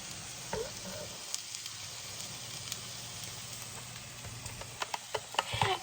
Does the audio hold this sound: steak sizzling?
yes